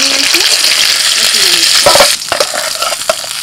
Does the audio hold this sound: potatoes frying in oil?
yes